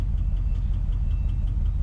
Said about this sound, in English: I have a couple of exhaust leaks